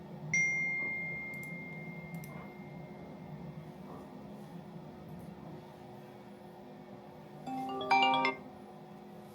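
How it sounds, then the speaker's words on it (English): An app notification for a VIP guest checking in at an event: a steady electronic tone sounds early, then a short, bright multi-note chime pings near the end over a low background hum, with no talking. "When a VIP arrives, you get an instant notification and, if you want, even a phone call"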